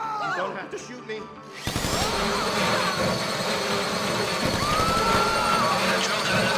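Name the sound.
drill running during heist in video game GTA Online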